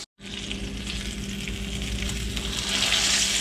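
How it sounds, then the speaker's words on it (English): Fish fries at medium heat on an electric stove, a continuous close sizzle and crackle that starts abruptly after a split second of silence and grows slightly louder, with no talking. "I've got that fish cooking on about a medium heat"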